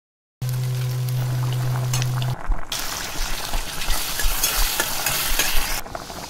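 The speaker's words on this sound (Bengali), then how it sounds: "পটলগুলো আগে ভেজে নিচ্ছি" Pointed gourd (potol) pieces frying in hot oil in a pan, a steady close sizzle that turns into louder crackling and scraping as they are stirred, with a low hum at the start.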